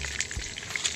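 Food sizzles quietly in a frying pan outdoors in a garden, soft crackling with a few brief pops, fairly faint and with no talking.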